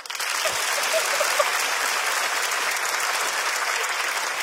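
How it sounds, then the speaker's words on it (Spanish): Dense, steady applause from a comedy show audience fills the whole stretch at a constant, fairly loud level, with no voices rising above the clapping. "¿Y podrían aplaudir los que se acaban de enterar de lo que es un beso arcoíris?"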